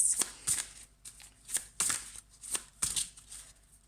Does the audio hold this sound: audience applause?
no